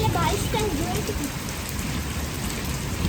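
Steady rain pours down outdoors, a dense continuous hiss of drops striking surfaces with no pause, faint voices in the background.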